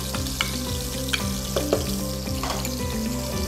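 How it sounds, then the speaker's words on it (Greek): Finely chopped dry onion sizzles in olive oil already flavoured by fried shrimp, a dense continuous frying hiss with a few light clicks of stirring, close up and alone. "Στο λαδάκι τώρα εδώ που είναι αρωματισμένο από τις γαρίδες μας θα ρίξουμε ένα ξερό κρεμμύδι ψιλοκομμένο"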